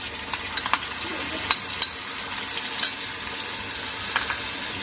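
A paste of ground coriander and cumin mixed with water and grated ginger fries in hot oil. A steady, bright sizzle is heard up close, with occasional stirring scrapes and clicks.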